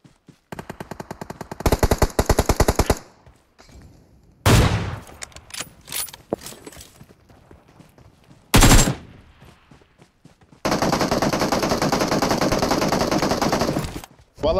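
Gunfire in an online battle royale shooter game: bursts of rapid automatic fire, several sharp single loud shots, and a long sustained volley near the end, loud and close with quieter gaps between.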